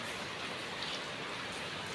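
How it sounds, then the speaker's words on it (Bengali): Heavy monsoon downpour outside, a steady dense hiss of rain with no breaks, moderately distant and even throughout, with no voices. "বাইরে এত বৃষ্টি, 3 দিন কন্টিনিউ বৃষ্টি হচ্ছে, মুষলধারা বৃষ্টি যাকে বলে।"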